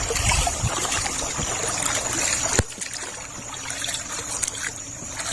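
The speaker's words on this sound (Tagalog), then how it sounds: "Bigla talaga ang agos ngayon." A strong river current rushes along after a sudden flood, a steady broadband roar of moving water with trickling detail, loud and close throughout, briefly louder in the first half.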